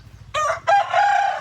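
A tethered rooster crows loudly and close, one harsh two-part call over a faint low pulsing hum.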